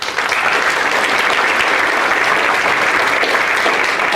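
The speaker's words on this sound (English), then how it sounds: "So let's give them a round of applause." Steady, sustained audience applause fills a high school sports awards program in Greeley County, loud and even from start to finish with no talk over it.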